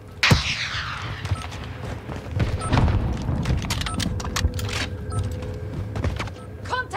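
Gunfire and explosions in the video game Call of Duty Modern Warfare, with a loud boom near the start followed by continuous rumbling battle noise and scattered shots throughout.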